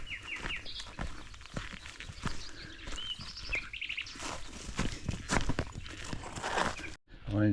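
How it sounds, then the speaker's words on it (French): Birds chirp and sing along a wooded path through pines in Provence near Toulon, bright scattered calls mixed with footsteps crunching on the trail and faint voices in the background. "c'est dans cette ambiance avec les chants d'oiseaux que nous circulons"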